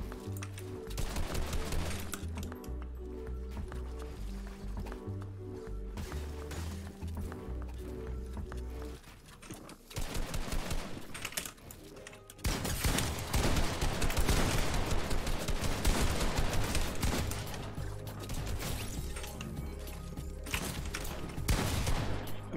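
Rapid bursts of gunfire from an online shooter video game, loud and dense over a steady layer of game music and effects, with a brief lull near the middle before heavier firing resumes.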